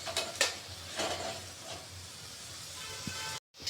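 Potatoes frying in a pan for bisibele bath give a soft, steady sizzle and hiss, with a few brief stirring scrapes and no voices.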